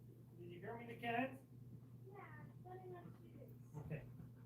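A cat meows a few times, drawn-out and wavering, close by, with a steady low hum underneath and no clear talking.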